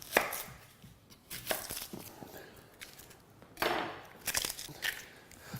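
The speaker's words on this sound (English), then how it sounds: "So just start off by dicing up your carrots." Carrots being diced with a knife on a board for carrot and coriander soup, with loud, irregular clusters of sharp chops separated by brief pauses.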